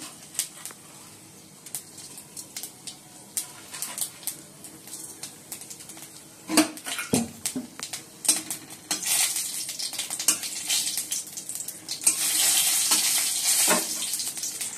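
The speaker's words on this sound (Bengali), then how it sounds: "কড়াইতে তেল দিয়ে দিয়েছি, শুকনো লঙ্কা ফোড়ন দিয়ে দিচ্ছি" Dried red chillies tempering in hot oil in a wok, a crackling fry with stirring and clinks of a utensil against the pan, busier and louder toward the end; no talking.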